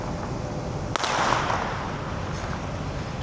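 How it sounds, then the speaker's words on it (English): A single sharp firework crack bursts out in daytime Minneapolis, followed by a brief fizzing tail, set against steady outdoor background noise at moderate distance. "Who lights off fireworks in the middle of the day?"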